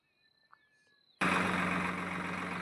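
A tractor engine bursts into a loud, steady running roar after a short stretch of quiet with faint background tones, holding a constant close rumble to the end.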